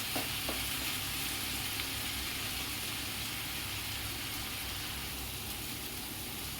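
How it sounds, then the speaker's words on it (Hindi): Masala with tomato puree fries steadily in a pan for masala baigan fry, giving a continuous close sizzle with a faint stir or two near the start, no voices. "इसे मैं 1-2 सेकंड भून लेती हूँ।"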